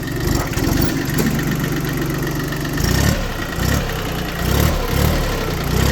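An Iseki 15 hp three-cylinder diesel 4WD tractor runs steadily at a low, throbbing idle. The engine is close and loud, with a few slight rises in pitch and no talk.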